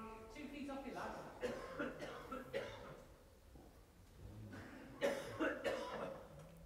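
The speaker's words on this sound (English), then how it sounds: "a loud cough behind us" A loud cough rings out behind a group at a crown green bowls county competition, standing out among nearby voices and general chatter, with a couple of sharp bursts rising above the murmur.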